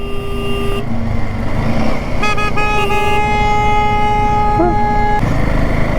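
A car horn honks again and again in short and long blasts on a Ladakh mountain road between Hanle and Sarchu, loud and close over a constant engine drone.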